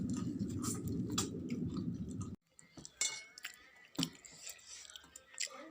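Someone eats rice mixed with chicken curry cooked over a wood-fired stove, with soft chewing and a few faint clinks of a plate and utensils, close and quiet, with brief talk.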